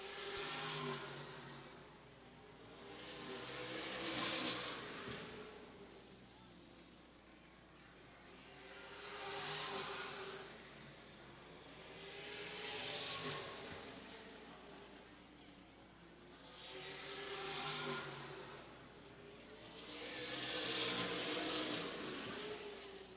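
Race car engines at Redwood Acres Raceway swell and fade in repeated passes every few seconds, a distant roar rising to moderate loudness and receding, with no talk over it.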